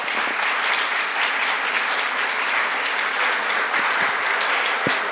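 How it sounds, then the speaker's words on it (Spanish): An audience at a Bible hermeneutics conference in the Diocese of Santa Marta gives a strong round of applause, dense continuous clapping that holds steady and loud for the whole stretch. "Damos gracias al Padre Gabriel por esa magnífica conferencia con un fuerte aplauso"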